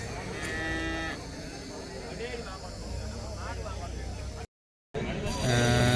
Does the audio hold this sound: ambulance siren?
no